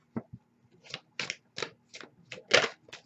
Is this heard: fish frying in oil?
no